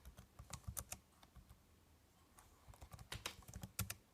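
Typing on a Thinkpad X250 laptop keyboard, a close, quiet string of clicky keystrokes in uneven bursts, with a brief lull before a faster flurry.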